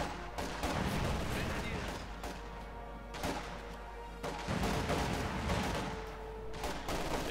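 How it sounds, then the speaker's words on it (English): Rapid gunfire and explosive crashes from a Company of Heroes 2 1v1 battle, dense overlapping shots and impacts that crackle loudly and steadily with brief lulls, while a commentator talks over the action. "Bit of shooting going on"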